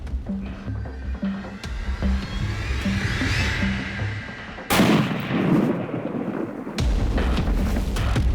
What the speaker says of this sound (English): Took a shot over him.